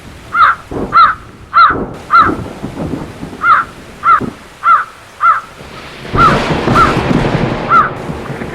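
A crow in a Hindi cartoon caws about a dozen times in a steady, loud rhythm, close by. Toward the end, a rush of heavy rain and rumbling thunder swells beneath the last few caws.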